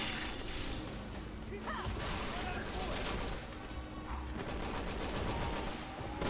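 Gunfire rattles through a Resident Evil 6 co-op fight, with dense bursts of shots, crashes and whooshing action running continuously at moderate loudness.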